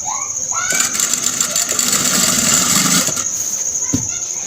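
Sewing machine running steadily as it stitches along the edge of a salwar hem, a continuous close mechanical whir with a slight pause near the end.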